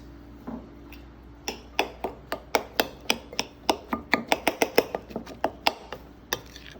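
A chef's knife chops corn and other ingredients finely on a cutting board in a masterclass kitchen, with about twenty crisp, evenly spaced taps that speed up mid-way and then slow, close and clear with no talking.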